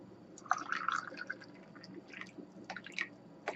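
Liquid trickles and drips into a container in short splashy bursts, close by, with no talk.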